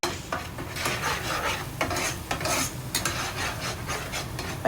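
Ground spices such as chilli and coriander powder being stirred and fried in a pan for a rohu fish and bean-seed curry, with a steady rasping sizzle and repeated scraping strokes of a spoon against the metal throughout.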